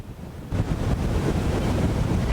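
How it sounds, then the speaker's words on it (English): Strong wind gusts roar across a microphone at Lauderdale by the Sea on the Broward coast, with surf rumbling underneath; quieter at first, then a loud, sustained buffeting blast. "these wind gusts that you may be able to hear right now"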